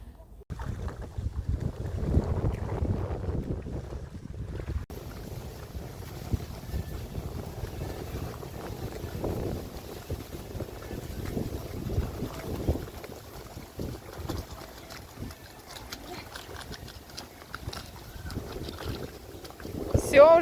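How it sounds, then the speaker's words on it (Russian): Wind buffets the microphone aboard a boat, a steady rough rush of gusts out on the water with a faint voice now and then. "Все, уже скоро ветер закончится."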